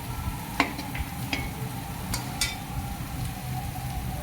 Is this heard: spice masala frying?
yes